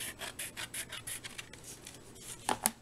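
Scrapbook paper is trimmed with a rhythmic series of soft rubbing, rasping strokes, about a dozen passes, followed by a couple of sharper clicks near the end.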